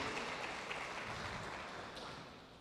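Members of a church congregation at an evening prayer service applaud together in a soft, steady wash of clapping that is faint and somewhat distant. The clapping eases slightly toward the end.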